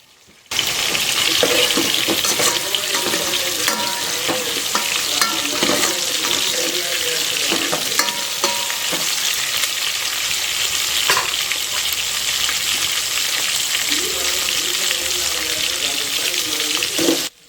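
Onions and other ingredients for Telangana-style sambar fry in a pan with a loud, constant crackle, punctuated by occasional clinks and scrapes of stirring close by, with no voices.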